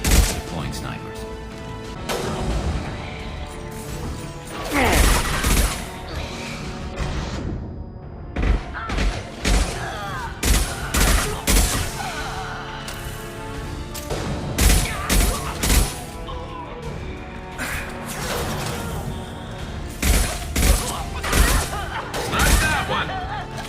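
Rapid gunfire crackles through a Mass Effect 2 video game battle, with repeated loud bursts and sharp shots clustered in waves over a steady rumbling, busy combat background.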